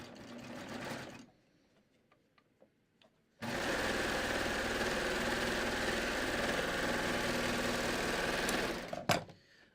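A home sewing machine stitches a sample seam through fleece fabric placed right sides together, with a brief burst, a pause with small clicks, then one long steady run of close, loud whirring that stops sharply.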